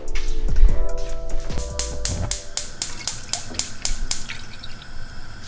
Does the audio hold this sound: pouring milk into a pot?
yes